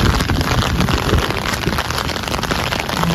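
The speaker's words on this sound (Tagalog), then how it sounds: "Nilalakaran ko ng ulan." Heavy rain pours during a severe thunderstorm with hail and strong wind, a dense, loud and continuous hiss of drops drumming nearby surfaces.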